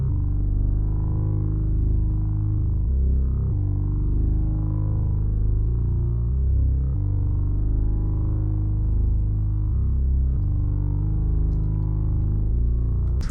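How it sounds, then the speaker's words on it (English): Deep synthesizer bass notes play steadily in a repeating pattern, each note sustained and shifting pitch every second or so, with no voices. "just played out these, you know, just basic bass notes."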